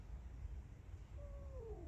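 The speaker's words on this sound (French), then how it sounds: "C'est lui qui miaule?" A domestic cat gives a single drawn-out meow near the end, faint and close, rising and then falling over a low background rumble.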